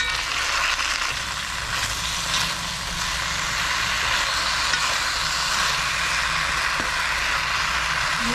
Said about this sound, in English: And then the mushrooms as well. And now we're going to saute this for about 5 minutes